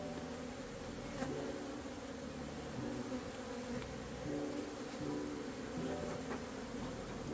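Honeybees drone steadily around an open hive outdoors, a dense continuous buzz with individual bees passing close now and then, and no voices.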